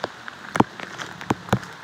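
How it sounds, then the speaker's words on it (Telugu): Rain falling while someone walks outdoors, a few distinct raindrop taps and splats standing out over a quiet, faint background patter. "చూడండి, వర్షం బాగానే పడుతుంది."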